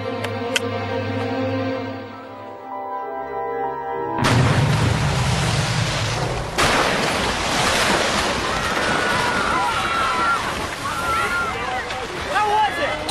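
A big splash into water that bursts in suddenly after a sustained musical tone, followed by a loud rushing, surf-like roar of churning water with wind noise and scattered sound effects.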